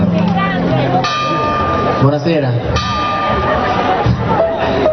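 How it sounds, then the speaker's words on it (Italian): Church bells ring with steady sustained tones beneath a voice speaking over a murmuring crowd outdoors at a concert in Praiano, Italy. "ben arrivate alle campane"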